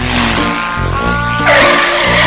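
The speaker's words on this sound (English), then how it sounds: "The car chase scene went very well" A car-chase sound effect for a film shoot: tires skid and squeal loudly over a roaring car engine, with a sharper, higher screech bursting in about two-thirds of the way through.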